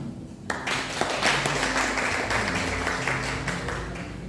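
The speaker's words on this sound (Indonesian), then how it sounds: "Kok kayaknya tepuk tangannya kurang mantap." A church congregation at a sermon service breaks into applause, a dense, sustained wash of clapping that starts abruptly after a short quiet moment and holds at a fairly even level to the end.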